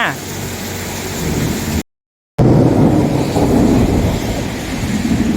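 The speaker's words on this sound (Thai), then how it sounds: "ฝนแรงฟ้าแรงครับเมื่อกี้สายฟ้าลง" A heavy thunderstorm with hard, dense rain and rolling thunder, loud and close, dropping to a brief silence midway before the roaring downpour returns just as strong.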